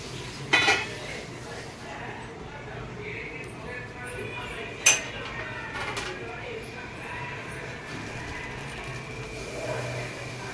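Egg biryani rice with mixed vegetables is being stirred in a lidded pot, giving a couple of sharp metallic clanks of lid and utensil against the pot over a steady low background hum.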